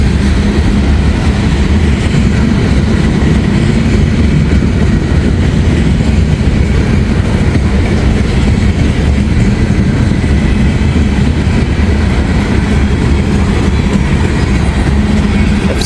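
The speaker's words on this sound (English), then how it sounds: "Nice though to get a train meet." Freight train rumbling steadily past on the Lake Erie, Franklin line, a loud, continuous roar of rail cars with faint clickety-clack throughout, no talk.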